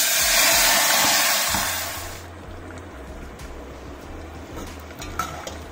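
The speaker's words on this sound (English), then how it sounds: "Oil is ready and nice and smoky. So first thing I'll add is the chopped nadru into it, the lotus stem." Chopped lotus stem (nadru) dropped into hot, smoky oil: a loud, close burst of hissing sizzle that fades over a couple of seconds into a softer steady frying crackle, with a few light clinks and no talking.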